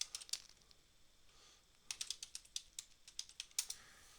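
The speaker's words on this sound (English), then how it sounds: "I'm going to type back down out the end." Quiet clicking of fingers typing on a computer keyboard, a short burst, a pause, then a longer run of irregular light key taps heard close and faint with no talk.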